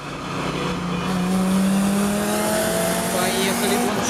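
A VAZ 2114 racing a Lada Priora, slowing after a run of about 180 km/h: a loud, close engine note and rushing road and wind noise, with a faint tire-squeal whine drifting across, steady throughout.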